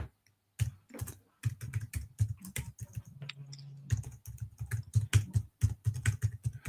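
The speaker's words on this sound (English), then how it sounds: "You can probably hear me typing." Rapid clattering keystrokes on a computer keyboard, irregular bursts with short pauses, close and fairly quiet.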